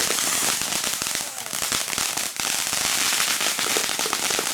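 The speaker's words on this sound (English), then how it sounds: "This is a firework sprinkler." A firework sprinkler spins and crackles with dense, continuous popping bursts that stay loud and steady throughout, with a brief dip midway.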